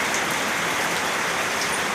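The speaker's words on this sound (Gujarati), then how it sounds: "જો જોરદાર વરસાદ આવી ગયો છે।" Heavy monsoon rain pours steadily in a Gujarati village on a day of downpour, a dense continuous hiss of drops striking surfaces close by, with no voices.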